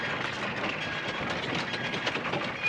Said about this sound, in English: Why does this train have to leave?